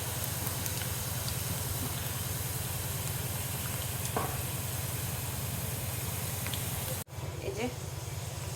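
Garlic, onion and dried chili sizzle in hot oil as a tempering for lentil dal, a steady close hiss that runs on with a brief break near the end.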